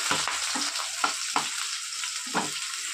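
Chopped onions sizzling in hot oil in a pan with chicken, a steady fry hiss broken by several scraping stirs of a spatula, close and alone with no talk.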